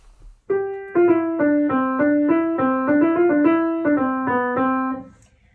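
A bright, cheerful melody in a major key played note by note on a piano-like instrument, clear and alone, ending with a fading final note.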